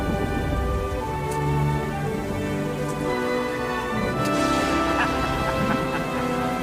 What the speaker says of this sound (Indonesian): Hujan turun semakin deras, angin semakin kencang